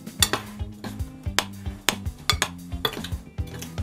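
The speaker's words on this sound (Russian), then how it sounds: "Сейчас я вот это все хочу перемешать" A spoon stirs dry cookie dough ingredients, including salt and vanillin, in a bowl, giving a brisk run of sharp metallic clinks and scrapes against the bowl at an irregular rhythm, close by and without talk.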